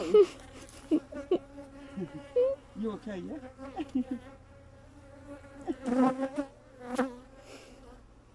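Honeybees buzz around an open beehive in a close, fluctuating drone with individual bees passing near, while people talk briefly.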